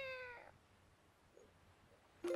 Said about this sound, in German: haben wir jetzt Katzengeräusche gemacht oder was?